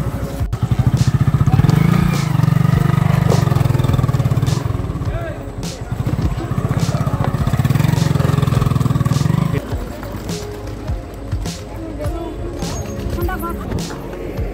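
A KTM Duke 250 motorcycle rumbles in two sustained engine bursts while it is loaded onto a boat in the Sundarbans, with clattering handling noises and people talking throughout.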